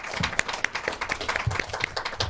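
Audience members at a youth commission meeting applaud the representatives, a moderately loud, uneven patter of individual claps filling the room.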